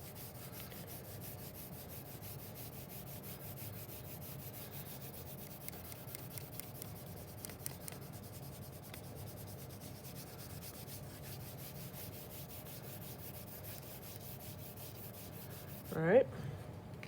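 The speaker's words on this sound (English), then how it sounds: "I'm going to lightly color in that yellow base color for the start of my sky over here" A yellow colored pencil lightly shading a sky base color across paper gives a soft, steady scratchy rub, faint and continuous, close up, ending with a brief louder scuff.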